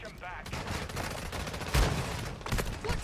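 Rapid bursts of gunfire from a first-person shooter, dense overlapping shots with one heavier blast midway, loud and close over busy game noise.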